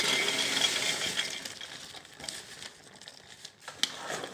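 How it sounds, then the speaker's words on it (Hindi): Fried shakkarpara are stirred into thick sugar syrup in a pan, giving soft crinkly scraping and light clinks against the vessel, fairly close and with no talk. "अब ये फ्राई किए हुए शक्कर पारे इसमें मिक्स कर देंगे।"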